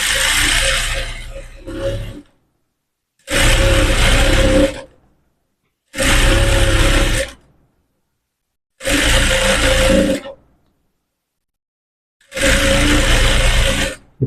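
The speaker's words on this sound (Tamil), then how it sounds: "நான் அதே மாதிரி 3 தையல் போட்டுக்கிறேன்." A sewing machine stitches umbrella fabric in five loud, steady runs of one to two seconds each, separated by silent pauses.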